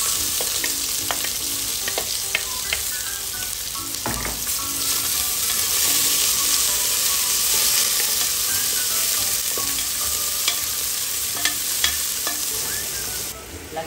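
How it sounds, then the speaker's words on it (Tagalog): Ginger and onion sautéing in a pan beside sea shells being cooked, giving a loud, continuous frying sizzle with intermittent clinks and scrapes of stirring and no talk. "Kasi gigisa natin ng konti yung ating mga ingredients"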